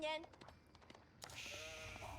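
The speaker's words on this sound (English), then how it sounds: "Ah, here's our sheep." A short synthetic sheep bleat from Age of Empires 4 opens, followed by a few soft clicks and a swelling electronic game sound effect.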